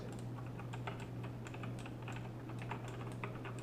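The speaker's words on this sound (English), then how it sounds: "You just type when it actuates. You know, like this. You don't slam it." Rapid, steady typing on a mechanical keyboard with clicky Kailh Blue or Razer Green switches, close and crisp, with a constant low hum beneath and no voices.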